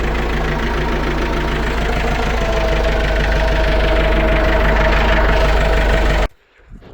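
A Massey Ferguson 158 tractor engine runs during a test drive with a loud, steady diesel knock and rumble, close by, before cutting off abruptly near the end.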